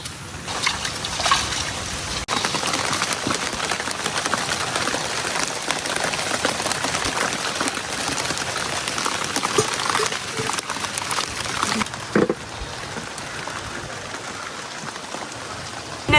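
Rain falls steadily outside a house as a dense, continuous hiss of drops on surfaces. A faint trickle runs through it, along with an occasional knock near the end.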